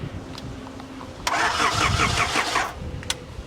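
Starter motor of a 1988 car that has broken down on a roadside trip cranks in a fast, rhythmic churn for about a second and a half, fairly loud and close, with faint background noise before and after.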